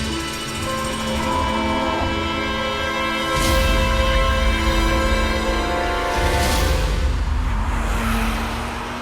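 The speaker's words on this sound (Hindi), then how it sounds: "चलो आगे देखो और गाड़ी चलाओ अब।" A car drives along a road in a dramatized crime-show scene, its engine humming steadily while two sharp bursts of tire skidding cut in about three seconds apart, loud and close, with no one talking.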